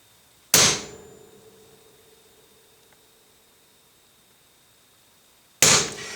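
A hammer strikes an old-fashioned center punch on metal: two sharp, loud metallic taps about five seconds apart, each ringing briefly before fading into quiet.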